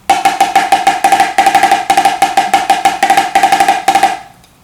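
Rapid, even drum strokes in a rolling triplet feel, with paired bounce strokes woven into each group, played up close before stopping abruptly.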